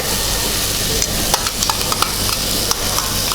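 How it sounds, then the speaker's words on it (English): Onion and garlic saute in a hot pan for a beef stew, a dense continuous sizzle with occasional light scrapes and taps of a utensil, close and fairly loud. "we are ready to start sauteing our vegetables. That's 1 whole onion in there. Put in the garlic."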